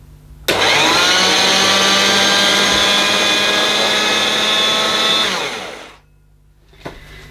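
A vintage 1973 Hoover 5464 shampoo polisher motor starts abruptly and runs at a steady, loud whine with a strong tonal hum for about five seconds, then winds down to quiet, followed by a faint click.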